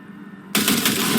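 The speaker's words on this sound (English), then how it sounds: "See that pile of junk? Fire a short burst into it." A gun in the video game Cyberpunk 2077 fires a short burst into a junk pile, a sudden loud rapid rattle cutting in after brief quiet and continuing to the end.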